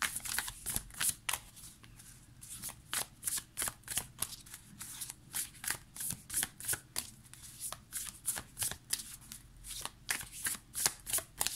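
A deck of Light Seers tarot cards is shuffled close up in quick repeated riffles, a rhythmic series of crisp papery bursts with short pauses between them.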